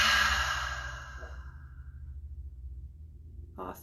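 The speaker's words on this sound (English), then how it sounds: "exhaling out the mouth" A slow, deep exhale out through the mouth during a guided breathing meditation, a soft breathy rush that starts full and gently tapers away over a couple of seconds, followed by a quiet pause and a brief faint sound at the end.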